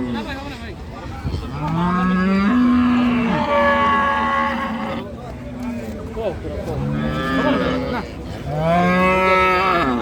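Friesian cows, some with calves, moo loudly at the Ambari cattle market in Dinajpur, with long, drawn-out calls in several close, overlapping bouts.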